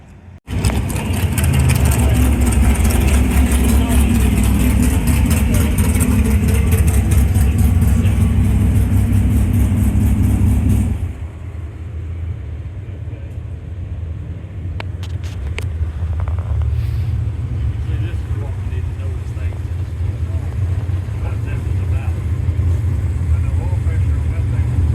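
A blown alcohol drag racing car engine at a dragstrip, a loud, dense, rough idle roar close by for about ten seconds, then dropping to a lower rumble with wind noise and a person talking over it.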